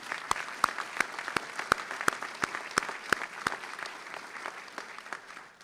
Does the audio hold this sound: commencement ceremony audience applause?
yes